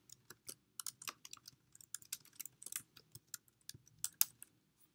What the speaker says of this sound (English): go ahead and delete the bracketed items and type in your course number, dash, and the course name